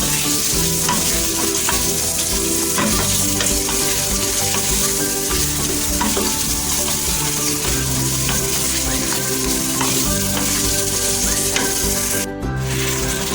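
Beef with masala frying for nihari, a loud, steady sizzle with repeated scraping stir strokes against the pot throughout, close and continuous with no talk.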